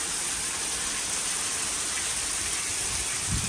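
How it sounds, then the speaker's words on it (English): Heavy, warm rain from Hurricane Beryl pours down in Southeast Missouri, a dense, even hiss that carries on steadily and fairly loud, with no voices. "That's a lot of rain."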